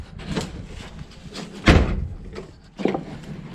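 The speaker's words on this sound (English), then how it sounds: "I really hate slamming that door." A car door slams once with a sharp, heavy thud near the middle, loud and close. Duller knocks and handling noises come before it, and a smaller bang follows near the end.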